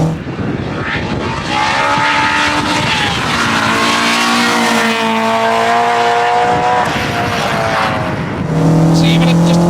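K20-swapped Honda Civic EG hatchback engine revving hard while driving, a loud, angry rising and falling drone with clear harmonic sweeps, close and continuous, with brief talk over it.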